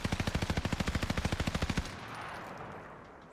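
A DP27 machine gun fires a steady burst of rapid, evenly spaced shots in a video game, loud and close for nearly two seconds, then a fading echoing tail.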